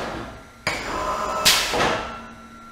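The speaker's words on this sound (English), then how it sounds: "the loudest part is when the clutch actually engages" A brake press with a rebuilt 900 lb flywheel: a steady mechanical hum suddenly swells, then a heavy clunk lands as the clutch engages, followed by continued close running noise.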